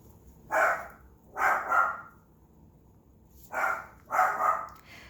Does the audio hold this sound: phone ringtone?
no